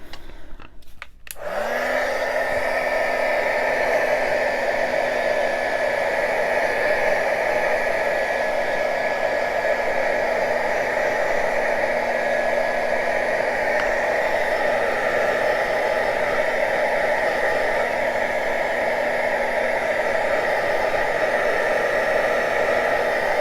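Handheld dryer blowing on wet paint on a journal tag, switching on with a click and rising whine, then a loud, steady whooshing hum held for about twenty seconds, no talk.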